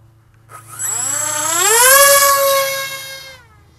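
Electric motors of a Harrier S1100 model aircraft spin up into a smooth rising whine, hold a loud steady tone, then ease off, heard close and alone.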